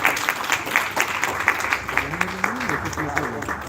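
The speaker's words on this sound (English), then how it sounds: "Round of applause for this boss that we have here." Audience clapping at an award ceremony, steady applause with a few sharp louder claps, while someone speaks over it partway through.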